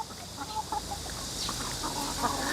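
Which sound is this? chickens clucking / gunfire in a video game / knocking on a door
chickens clucking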